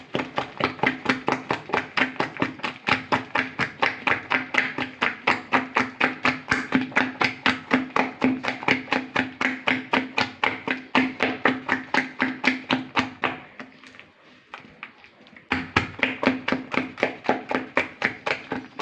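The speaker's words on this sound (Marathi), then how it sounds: "आता आपण हे मिक्स करूया आणि उडीद वडे करून घेऊया" Urad dal vada batter mixed with chili-ginger paste by hand, slapping and beating in a fast, steady rhythm of many close, crisp strokes, with a short pause near the end before the beating resumes.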